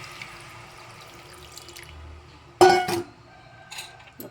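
Soaked tamarind juice poured into a cooking pot for a fish curry, a short splashing pour midway, then faint drips and clinks in a quiet kitchen.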